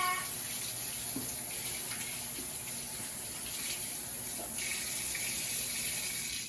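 Water runs steadily from a kitchen tap while hands are washed beneath it, a continuous close gush with small splashy shifts in tone and no talking.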